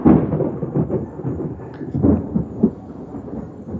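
Thunder rolls after a lightning flash during an afternoon storm on a garden porch, a low sustained rumble with several swelling peaks over nearly four seconds, loud and close with no speech.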